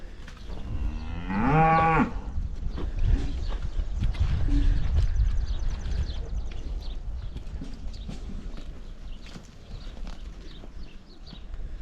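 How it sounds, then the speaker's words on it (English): A red dairy cow with a large udder gives a loud, close moo in a farm setting, followed by ongoing barn noise and shuffling hooves, with someone talking intermittently. "I gotta show you this red cow"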